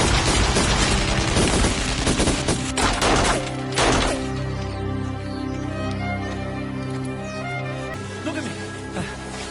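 Heavy gunfire in a crime thriller film, dense bursts of shots and booms over a loud rumbling score, with a narrating voice talking over the action throughout.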